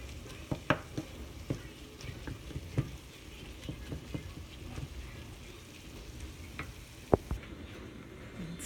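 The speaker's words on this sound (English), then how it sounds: "So we're browning the meat." Meat browning in a pot for crockpot chili gives a quiet, steady sizzle, dotted with soft crackles and occasional sharp pops and stirring knocks.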